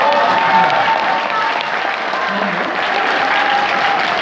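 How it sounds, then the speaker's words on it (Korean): An indoor audience claps steadily through a lecture, a dense, continuous wash of applause at close range with a faint murmur of voices beneath it. "여자분이 박수 치시니까 대단히 고맙습니다."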